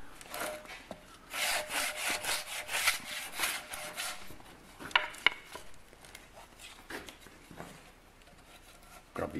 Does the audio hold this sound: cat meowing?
no